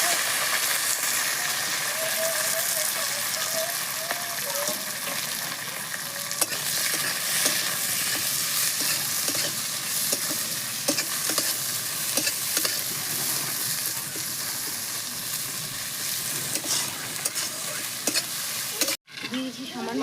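Ginger, garlic, green chili, curry leaves and chopped onion fry in a pan with a loud, dense, continuous sizzle, broken by frequent scraping stir strokes throughout, close up with no talking.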